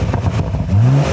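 A car engine revs hard and then settles into a loud, rising drone, close up and without speech over it.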